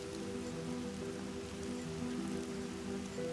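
Steady rain falling in the Kalahari desert, a dense, continuous patter on surfaces that stays at an even, moderate level with no voices.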